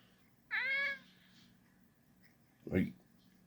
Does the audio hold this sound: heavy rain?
no